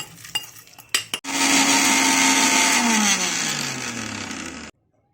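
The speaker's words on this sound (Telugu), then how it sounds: "మనం మిక్సీకి వేసుకుని పొడి చేసుకుందాం" A mixer grinder grinding spices into tandoori masala powder whirs loudly for several seconds, its motor pitch sliding down as it runs, then cuts off abruptly; a few clunks precede it.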